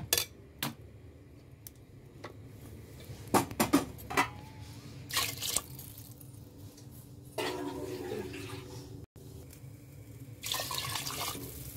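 Running water splashes from a tap into a sink or vessel in bursts, with dishes and utensils clinking nearby, close and moderately loud.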